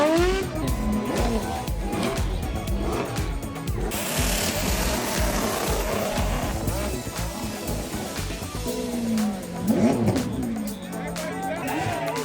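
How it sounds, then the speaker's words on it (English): A car doing a burnout at a car-week burnout pit exhibition, tires squealing loudly over a revving engine, with a crowd's babble and voices throughout. "you got to see your very first burnout exhibition"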